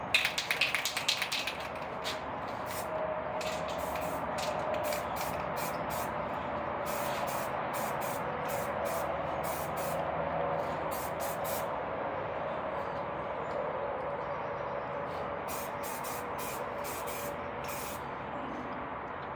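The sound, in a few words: spraying clear coat onto hydro-dipped piece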